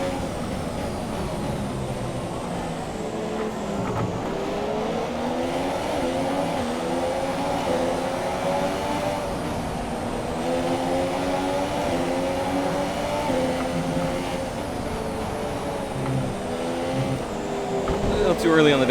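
F1 cars race around the tight, slow corners of Monaco in the game F1 2017. Engines whine and rev with changing pitch through downshifts and acceleration, and a voice talks over the steady motor noise.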